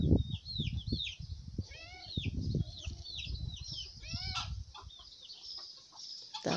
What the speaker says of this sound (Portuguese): O barulho das galinhas que elas não deixam.